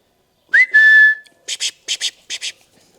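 A dog training whistle used with a pointing Labrador puppy: one rising note held briefly, then three pairs of short, sharp double blasts, close and loud.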